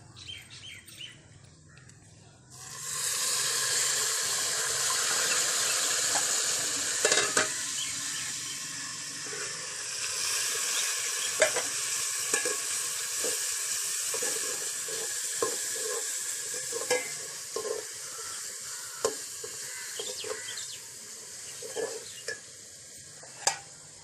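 Ginger garlic paste hits browned onions in hot oil for biryani, setting off a sudden loud sizzle that holds steady for many seconds, with occasional stirring scrapes over the frying.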